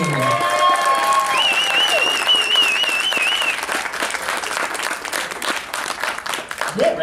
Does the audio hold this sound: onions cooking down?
no